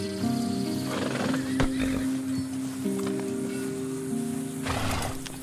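A horse neighs with hooves clopping in Red Dead Redemption 2, heard over a steady tonal game soundtrack, with louder bursts near the start and end.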